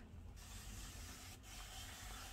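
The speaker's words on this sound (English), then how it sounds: "I want to spray it and make it look like a wet look." Water mixed with a little conditioner sprayed onto a headband wig for a wet look: a steady, soft, close hiss of spraying that runs through the short stretch, with no talking.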